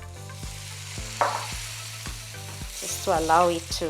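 Stock poured into a hot pan of pre-boiled egg yolk and potato baby food, giving a steady frying sizzle with stirring scrapes and a brief louder burst of bubbling, while a voice speaks quietly over it.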